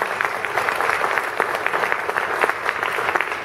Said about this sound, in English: if you could join me in giving your volunteer facilitators a round of applause,